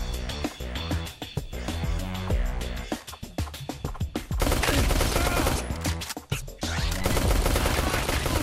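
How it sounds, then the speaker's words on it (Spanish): Rapid bursts of gunfire in the video game Jydge crackle over loud, dense background music, with sharp volleys clustered through the second half. "Disparo la bala gorda, no lo sé."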